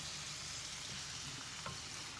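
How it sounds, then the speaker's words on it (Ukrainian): Tomatoes and onion sizzle in a frying pan as they are stirred, a steady close crackling fry that runs without pause and with no talk. "вимішую то з помідорами, даю помідорам, щоб вони трошки смажилися так само"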